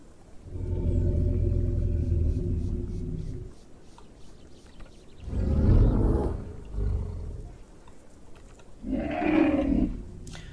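Deep roaring dinosaur calls from a Path of Titans mod creature, three separate bellowing bursts, the first long and rumbling, the later two shorter with a rising tail, loud and close with pauses between.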